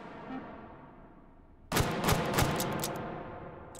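Explosions and gunfire in the VR game Hot Dogs, Horseshoes & Hand Grenades: after a quiet stretch, a sudden sharp burst of several cracking blasts follows in quick succession, loud and alone without talk.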